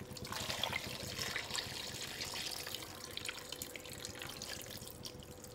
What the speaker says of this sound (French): Et on couvre d'eau. On met de l'eau